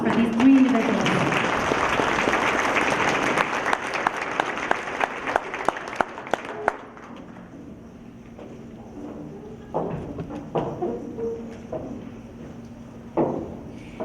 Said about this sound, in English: Big round of applause for these 3 individuals.